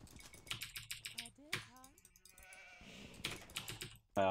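A few short sheep bleats sound in a real-time strategy video game, mixed with rapid keyboard clicking while someone talks over them.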